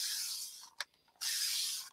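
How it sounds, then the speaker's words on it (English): Continuous spray bottle misting mixed media paint in two long, loud hissing bursts separated by a short pause with a brief click, the spray close and steady. "And then, of course, we have our all-over continuous spray."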